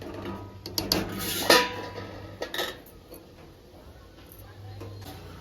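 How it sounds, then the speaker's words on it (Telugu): A lid set onto a pot of cooking dal gives a few close metallic clinks and scrapes, followed by a quieter stretch; a voice speaks briefly during it. "మూత పెట్టుకుందాం"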